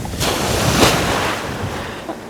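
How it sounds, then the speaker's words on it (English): A big ocean wave crashes on a cold beach at Ilha Grande, Brazil, swelling into one loud surging roar that then fades out, with wind buffeting the microphone throughout. "that was a big wave"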